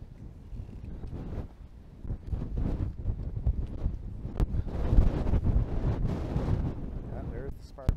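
Gusty wind at a park buffets the microphone with low roaring rumbles that swell and ease over several seconds, loud and close throughout.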